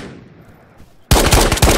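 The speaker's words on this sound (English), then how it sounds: "I got shot by someone." A loud burst of automatic fire from an M4 carbine in the VR shooter Ghosts of Tabor breaks a near-silent stretch, a few rapid close shots cracking in a tight cluster.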